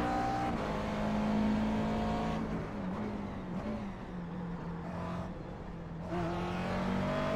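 A McLaren MP4 12C GT3 race car in iRacing at Bathurst, its engine droning steadily with shifting pitch as it pulls through gears, a sustained close in-car tone with brief dips and rises.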